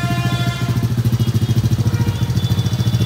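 A 125cc dirt bike ridden by a kid in India runs with a steady, throbbing, pulsing engine note, loud and fairly close, with no talking over it.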